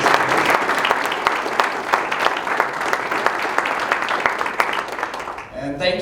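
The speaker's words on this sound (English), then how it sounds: "Let's also give a round of applause to Spirit in the Desert Retreat Center" A town forum audience breaks into a full round of applause, dense overlapping claps holding steady for several seconds before dying away as a voice begins to speak.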